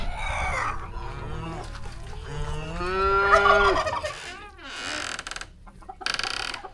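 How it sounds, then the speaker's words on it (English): Cows low on a farm near a chicken coop, long tonal moos from close by with rising and falling pitch, followed by shorter grunting calls and scuffing noises. "Here's a cow, and there's a cow."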